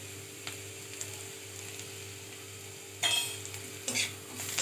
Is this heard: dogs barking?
no